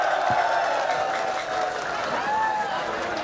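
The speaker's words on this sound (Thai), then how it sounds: "แฟนมวยปรบมือให้เลยครับ" A boxing crowd applauds at the end of a round, a diffuse wash of clapping heard from a distance beneath ongoing commentary and arena noise.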